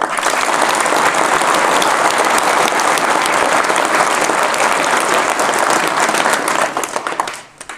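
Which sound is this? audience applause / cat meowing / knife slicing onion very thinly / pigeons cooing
audience applause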